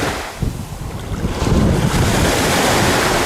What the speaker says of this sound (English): The sound of the waves from Garden Cove